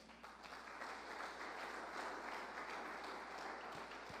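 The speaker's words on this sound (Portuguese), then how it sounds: "As palmas para o Senhor." A church congregation applauds together in a steady, continuous wash of clapping that holds at an even, fairly soft level without pause.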